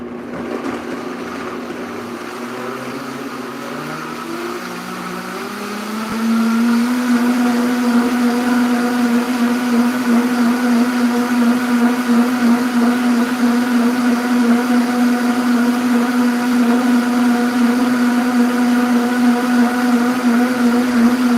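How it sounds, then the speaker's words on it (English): A countertop blender whirs through a pineapple spinach smoothie, starting at a low hum, then ramping up over several seconds to a loud, steady high-speed whine that holds without pause. "Turn your blender on."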